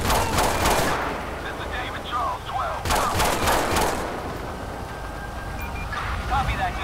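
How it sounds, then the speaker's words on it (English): Loud bursts of gunfire during a GTA 5 police shootout, two heavy volleys in quick succession, close and harsh against a noisy street background with voices. "Shots fired, shots fired."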